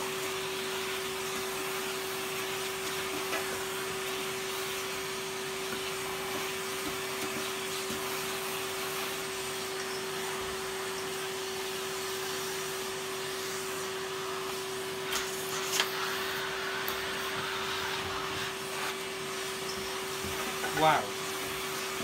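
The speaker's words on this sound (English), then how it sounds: "Give it a vacuum." A vacuum cleaner runs with a steady whining drone and a constant pitched hum, nearby and unbroken, with a few brief knocks and bumps toward the end.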